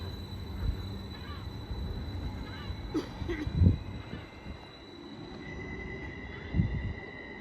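A Transport for Wales train pulls out of Grangetown station on a Caerphilly service, its rumble low and fairly distant beneath steady ambient noise, with brief metallic clanks and a squeal.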